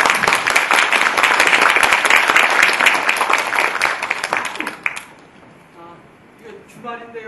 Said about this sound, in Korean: 우리 모두 홍기화 이사님을 큰 박수로 환영하도록 하겠습니다